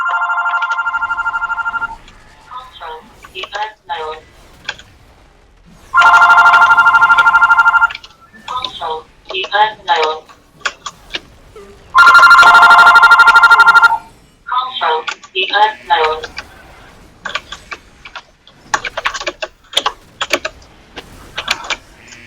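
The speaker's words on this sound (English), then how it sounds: "I would hate the phone too if it sounded like that." In a World of Warcraft dungeon run, a harsh telephone bell rings in three long bursts. Spoken voices and short mechanical clicks fill the gaps between the rings.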